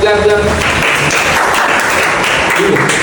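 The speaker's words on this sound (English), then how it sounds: "Clap." Students in a classroom break into a burst of clapping, a dense, fairly loud patter of many hands, with voices heard at the start and end.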